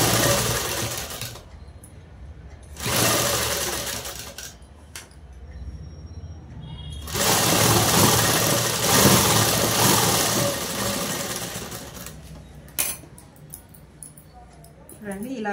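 A sewing machine stitches the sleeves of a lehenga-style long frock in quick close bursts with pauses between runs. Someone talks throughout.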